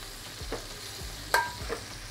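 Vegetables roast in a pan for an escabeche, a quiet continuous sizzle with a few soft stirring scrapes and one sharp clink, heard close with no talking.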